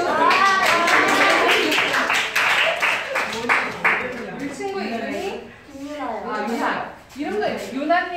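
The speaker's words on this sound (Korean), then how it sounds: "박수." A group of people claps during a nurses' pledge ceremony practice session, a burst of brisk hand claps at the start that thins out as people talk and laugh over it.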